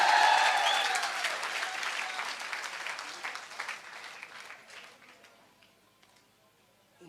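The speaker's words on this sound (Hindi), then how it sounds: "ताली होनी चाहिए।" Audience applause at a Safe Shop gathering, dense and loud at first, then thinning out and dying away to near silence.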